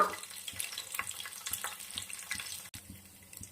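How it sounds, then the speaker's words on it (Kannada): Curry leaves and mustard seeds hit hot oil for a sprouted-bean sambar, giving a faint, close crackling sizzle with scattered small pops throughout, quiet and with no talking. "ಕರಿಬೇವು ಹಾಕೊಳ್ಳೋಣ. ಹಾಗೆ ಸ್ವಲ್ಪ ಸಾಸಿವೆ ಹಾಕೊಳ್ಳೋಣ."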